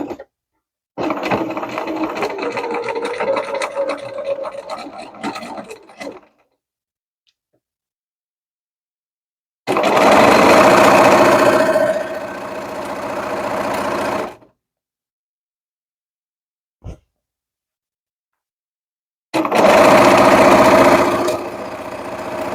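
A sewing machine stitches a quarter-inch seam along the raw edge of a pillowcase, running in three separate bursts of steady motorised whirring with silent pauses between and a single click during the last gap.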